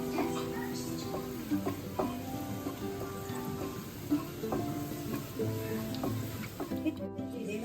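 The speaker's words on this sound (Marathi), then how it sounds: "फोडणी थोडी तडतडायला लागल्यानंतर लसणीचा चांगला सुगंध पसरलेला आहे" Garlic tempering crackling in hot oil in a pan, a busy fry with sharp popping clicks and tonal utensil taps close by, moderately loud and steady.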